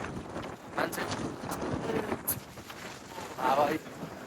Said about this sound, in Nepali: हावा डेन्जर हावा चल्छ है मुस्ताङमा चाहिँ